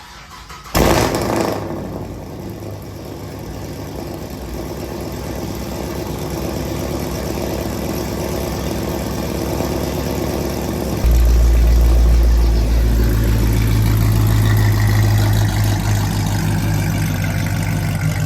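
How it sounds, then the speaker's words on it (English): A fifth-generation Chevrolet Camaro 2SS with a check engine light on starts up cold with a sharp burst, then settles into a loud steady idle that deepens and rises near the end. "but here's a cold start."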